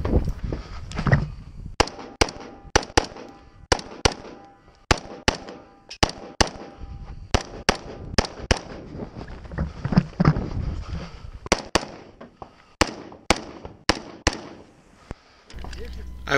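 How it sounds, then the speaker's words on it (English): Sharp gunshots from a 2-gun match stage, pistol and rifle fire engaging steel targets, a loud irregular series of close cracks in quick bursts, with a voice talking between and over the shots. "From each of these windows, the shooter engages 3 steel targets."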